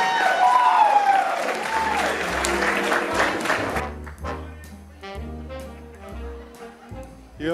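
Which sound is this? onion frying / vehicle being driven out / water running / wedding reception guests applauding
wedding reception guests applauding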